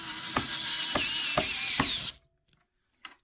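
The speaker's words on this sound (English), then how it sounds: "Let me tighten the screws." A hand ratchet clicks in a steady rhythm while tightening screws on a simple streaming rack, a few louder clicks standing out over a continuous bright mechanical rasp that stops abruptly, followed by faint handling noises.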